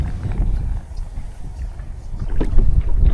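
Splashy canoe paddle strokes dip into water in an irregular rhythm on the River Stour, from a Swift Cirrus solo canoe, with wind gusts buffeting in the background.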